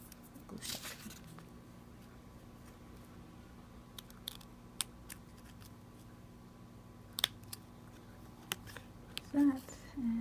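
Scissors trimming paper pieces of a 3D deer Christmas tag, a few sparse close snips and paper rustles over a quiet background.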